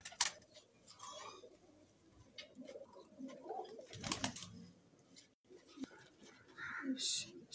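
Pigeons coo softly on a rooftop, with scattered quiet calls, clicks and shuffling throughout, under faint low talk.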